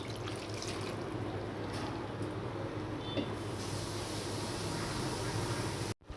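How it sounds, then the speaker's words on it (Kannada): Water being poured into a pan of salted, freshly cut cabbage frying with onion, a steady soft hiss and trickle running for several seconds with faint stirring noise, no voices. "ನಂತರ ನೀರು ಹಾಕೋದು."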